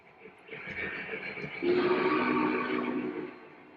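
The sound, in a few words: toy train running on a layout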